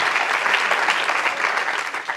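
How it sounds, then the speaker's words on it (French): Studio audience on a French comedy talk show breaking into dense, continuous clapping, close and evenly sustained for the whole stretch. "Oui, on applaudit."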